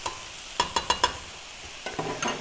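Paella bubbles gently in a pan with a soft, steady sizzle, broken early by four quick metallic taps and later by a few scraping stirs.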